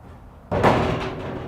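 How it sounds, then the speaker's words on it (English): A single heavy metallic slam, sudden and loud, as a 2023 Cimarron Lonestar trailer's center cut gate hits the wall, followed by a ringing rattle that fades over the next second. "It slams over against the wall."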